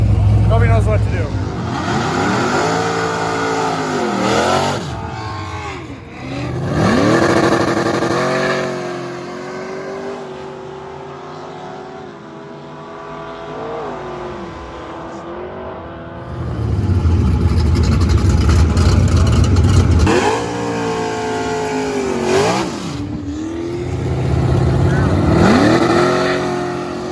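A methanol-fuelled 370 race car with an LS engine revs loudly and close, its pitch sweeping up and down in repeated surges, dipping quieter in the middle and then climbing again as it drives hard.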